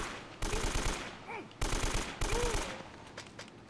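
Two bursts of rapid automatic gunfire in Uncharted: Drake's Fortune, loud and close, each lasting about a second, followed by a short echoing tail and a brief tonal game effect.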